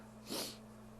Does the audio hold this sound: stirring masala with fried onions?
no